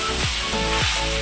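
Small pasta pieces fry lightly in a pan, giving a steady close sizzle with faint stirring scrapes and a couple of brief squeaky sweeps, with no voices.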